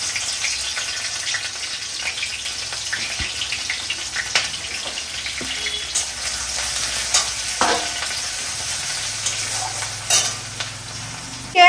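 Potatoes fry in a pan with garlic and green chilli, sizzling steadily throughout with scattered stirring scrapes and clinks up close, and a brief clatter at the very end.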